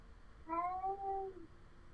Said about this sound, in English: The cat is upset.